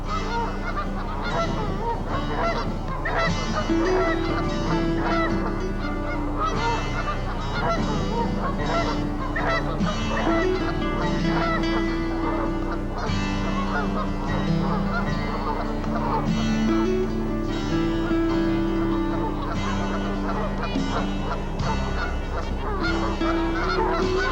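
Wintering swans gather in a large flock in Monticello, Minnesota, honking loudly and continuously, their overlapping calls forming a dense, close chorus throughout.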